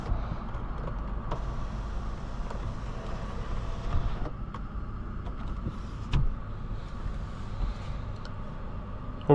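Power sunroof of a 2019 Lexus GX 460 opening, a steady electric motor whir inside the cabin that runs for several seconds before stopping with a soft clunk, under a quiet hum of the car.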